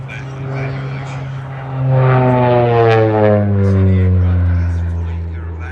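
OV-10 Bronco twin-propeller aircraft flying past at an air festival, a loud droning propeller roar with a falling pitch as it passes, steady and near.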